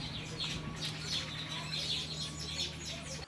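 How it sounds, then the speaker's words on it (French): Birds chirp and sing in repeated bright calls over a quiet village scene in Koro, Côte d'Ivoire, moderately close, with a faint steady hum beneath. "elle reste bien éveillée avec les cris et les chants des oiseaux"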